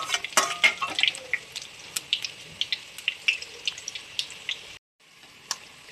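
Curry leaves and fennel seeds splutter in hot oil, giving a run of sharp, irregular crackling pops over a faint background, close and moderately loud, with no talking.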